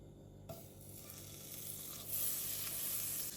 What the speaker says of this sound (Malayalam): ഒരു പാത്രം ചൂടാകുമ്പോൾ അതിലോട്ട് 1 ടേബിൾ സ്പൂൺ ബട്ടർ ചേർത്ത് കൊടുക്കുന്നുണ്ട്.